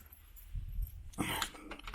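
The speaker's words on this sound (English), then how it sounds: "keys on floor." A set of keys drops onto a floor indoors, giving a short metallic jangle and clatter that stands alone above quiet room noise.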